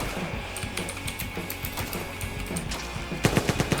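Gunfire in the video game GTA, a fast mechanical rattle of rapid automatic shots running steadily at moderate volume, ending in a few louder, sharper bursts.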